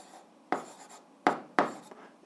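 An answer to an eighth-grade algebra exercise is written out in a few short, crisp strokes, three distinct scratches close up over a quiet background.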